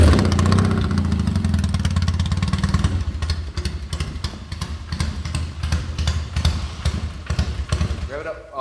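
A 1977 Triumph Bonneville motorcycle engine runs loud and close through its exhaust pipes, a steady rumbling idle that breaks into uneven popping pulses as it dies away, with talk around it.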